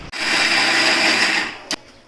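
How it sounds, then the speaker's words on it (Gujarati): A kitchen mixer grinder whirs loudly and steadily while grinding roasted peanuts into powder, then cuts off, followed by a brief clunk. "માંડવીના દાણા શેકા, ભૂકો કર્યો મિક્સરમાં"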